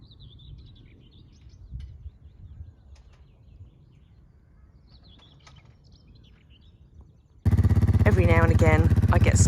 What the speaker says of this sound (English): just listen to the birds